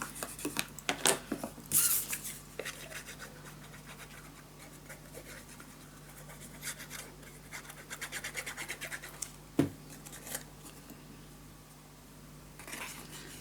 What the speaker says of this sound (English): now you can burnish everything very nice down